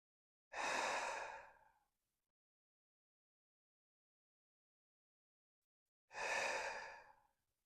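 Two slow, deep exhales during a yoga practice, each about a second and a half long and separated by a long silence, close and clear with no talking.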